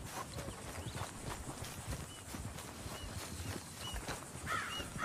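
A horse walks in the Red Dead Redemption 2 video game, its hooves clip-clopping in a steady rhythm over an ambient outdoor bed, moderately close.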